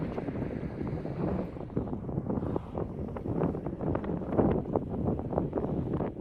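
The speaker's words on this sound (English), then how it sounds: "Oh, that wind, man." Steady wind rushes and buffets a microphone outdoors during a lightning storm, a continuous loud roar with gusty surges throughout and no voices.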